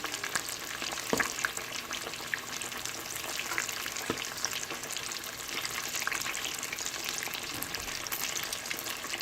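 Chicken pieces for Jamaican brown stew frying in hot oil on high heat, a dense, continuous sizzle and bubbling with occasional sharper pops and a few stirring clinks, close and steady, no speech.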